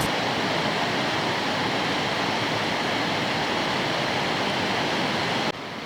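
Heavy rain pours at an airport construction site, a dense, steady broadband roar of rainfall and water running off a bankside, loud and continuous, cutting off abruptly near the end.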